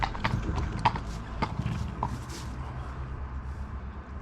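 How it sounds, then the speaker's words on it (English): A ridden horse's hooves clip-clop in a loose, uneven rhythm at moderate distance over low background rumble, the footfalls growing fainter toward the end. "I run him right at this horse"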